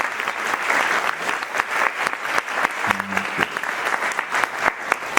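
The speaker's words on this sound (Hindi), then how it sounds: "चलो एक बार जोर से ताली बजाइए परमात्मा के लिए" A seated audience at a spiritual gathering hall claps loudly together, a dense steady burst of hand claps with a brief low tone partway through.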